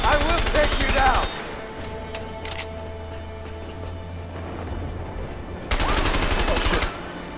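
Rapid automatic gunfire in a shootout in the game A Way Out: a loud burst of fast shots, a quieter stretch with scattered shots, then another loud burst near the end.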